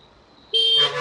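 A car horn honks in a short, loud burst amid heavy road traffic near a bridge construction site, and a second horn tone joins it, sounding close over the low hum of the street.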